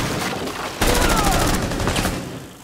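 Gunfire in the tactical shooter Rainbow Six Siege: a sharp burst opens a loud stretch of rapid shots with ringing tails, close and dense, then fading toward the end with no talking.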